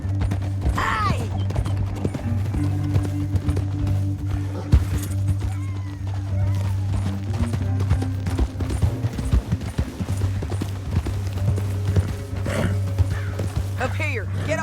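Steady clip-clop of horse hooves in Red Dead Redemption 2 under game music and a talking voice, continuous and moderately loud throughout.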